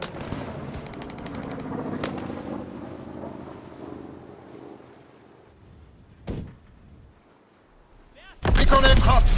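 Aircraft strafing gunfire from a Call of Duty WW2 Kill Confirmed multiplayer match: a couple of isolated sharp bangs over rumbling game ambience, then a loud, dense burst of rapid fire at the very end.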